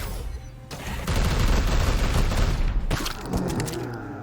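Psychic Onslaught attack in the Chaos Gate video game, a sustained roaring barrage of blasts and crackling impacts that swells after a quieter opening and stays loud for several seconds.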